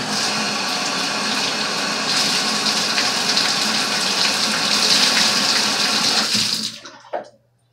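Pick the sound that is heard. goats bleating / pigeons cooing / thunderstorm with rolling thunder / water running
water running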